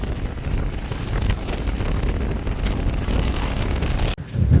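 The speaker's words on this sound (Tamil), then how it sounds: "கொஞ்சம் காற்று பலமாக தான் வீசினது" Strong wind near the coast on a road in Jaffna, Sri Lanka, roaring and buffeting the microphone continuously, with a brief drop before the gusting resumes.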